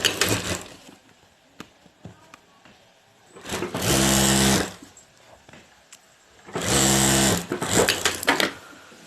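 A sewing machine stitches a zip and lining onto a handmade handbag, running in two strong bursts of a few seconds each between quieter handling noises.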